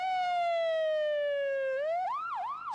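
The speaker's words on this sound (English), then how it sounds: "Streams of ambulances came to carry away the dead and the injured." An ambulance siren wails after a market bombing, a loud close tone sliding slowly downward, then breaking into rapid rising-and-falling yelps.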